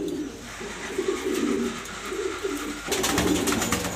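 A pigeon coos softly in a loft, low throaty rolling calls repeating over a light background hiss, with some fluttering near the end.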